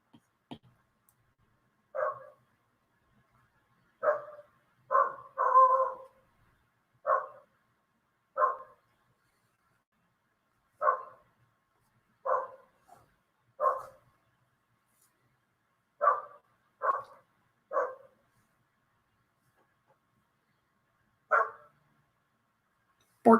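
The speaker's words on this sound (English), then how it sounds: "I don't know if you guys can hear the dog barking." A single dog barks outside in isolated, fairly loud woofs, mostly one at a time with a couple of quick doubles, spaced irregularly every second or two against otherwise quiet surroundings.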